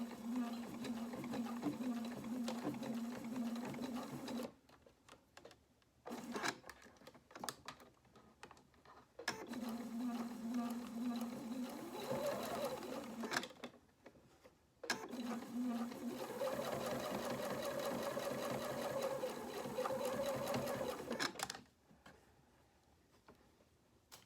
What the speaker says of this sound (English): I have a 1/4 inch foot on my sewing machine.